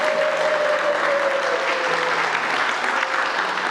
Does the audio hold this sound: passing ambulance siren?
no